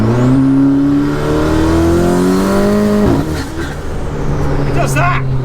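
A 450 hp rear-wheel-drive Mini with a DSG gearbox revs hard in sport mode with its exhaust valves open, a loud rising engine note climbing steadily, then dropping sharply at a gear change before climbing again.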